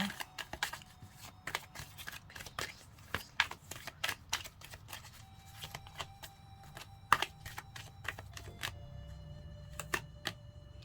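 Tarot cards being shuffled and handled by hand, a quiet irregular run of crisp flicks and snaps close up, with no talking.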